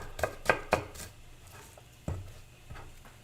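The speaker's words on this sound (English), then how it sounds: "We're going to chop up these onions." A kitchen knife chops onions on a cutting board, several quick taps close together at first, then a couple of isolated knocks after a pause, near and moderately loud with no talk.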